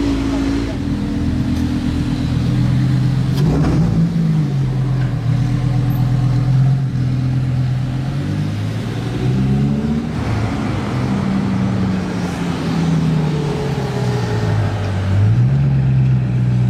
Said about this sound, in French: Wow, le vrombissement d'ici.